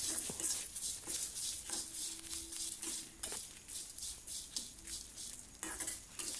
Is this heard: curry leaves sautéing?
yes